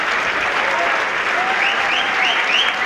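Audience applause for music school teachers at a children's cantata, a steady dense clapping from a crowd throughout with faint voices mixed in.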